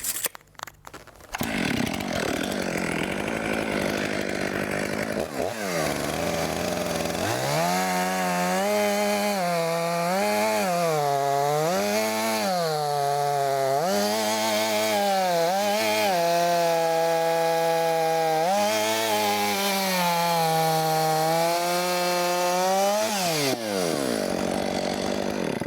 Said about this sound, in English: The chainsaw that I'm going to use for this ripping cut is the MS362 Stihl